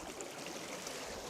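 Water pours and splashes out of a small sample vial at an outdoor stream sampling spot, a steady close trickle over flowing water for the whole moment.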